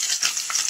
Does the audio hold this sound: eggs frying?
yes